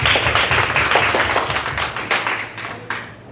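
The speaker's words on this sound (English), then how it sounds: "Let's clap it up for Pastor Carl." Audience clapping for Pastor Carl at a church gathering in a Haitian community, a dense, steady patter of many hands that fades slightly toward the end, with a few sharper claps near the close.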